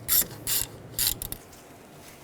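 A ratchet wrench clicks in three quick bursts, then a few fainter ticks, as knock sensor bolts on a 2004-2009 Audi A4 Quattro 2.0L four-cylinder engine are snugged down; close and quiet, with no talking.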